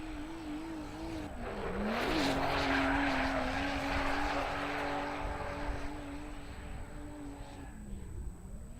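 Kevin Rosowski's fast BMW drag car at Raceway Park, heard as a loud engine roar that rises and holds a steady high drone, with a strained pitch wobble early on, before easing back.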